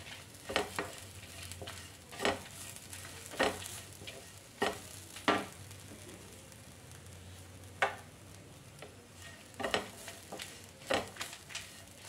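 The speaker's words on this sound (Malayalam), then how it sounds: "ഇനി ഇതൊന്ന് വറുത്തെടുക്കണം." Cinnamon, fennel, cloves, cardamom and black pepper roast dry in a pan for an Onam masala curry, with a soft low sizzle under repeated scraping stirs at an irregular rhythm, quiet and close.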